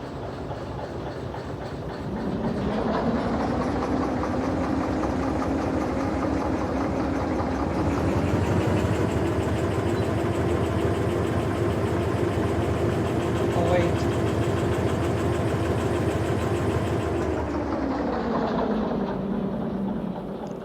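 A locomotive in the train simulator Derail Valley runs under throttle with a steady, loud mechanical engine drone that builds and holds for most of the stretch before easing off, while someone talks over it.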